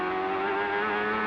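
A CART race car's Honda turbocharged 2.65-liter V8 at the 1998 Cleveland round screams at high, steady revs, a loud continuous engine note heard on its own.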